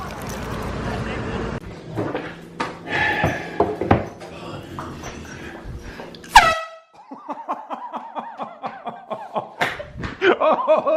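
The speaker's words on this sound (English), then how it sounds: "Oh shit! The air horn prank." An air horn prank goes off in one sharp, loud blast amid chatter and laughter, followed by excited talking and chuckles.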